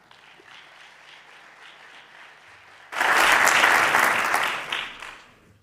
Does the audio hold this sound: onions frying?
no